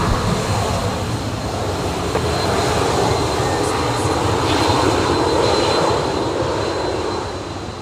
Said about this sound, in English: the aircraft taxiing along Charlie there, going over to 16 left for their departures